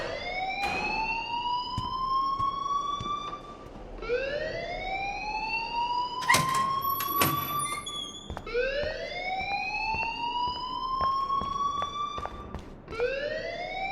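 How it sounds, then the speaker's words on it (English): School fire alarm in the video game Life is Strange, a loud wailing siren that sweeps upward in repeated rising cycles about every four seconds, with brief clicks and knocks mixed in. "please turn off that alarm since that's your job."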